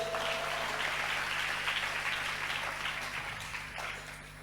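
A church congregation claps together in a steady, fairly distant patter of applause that slowly fades toward the end.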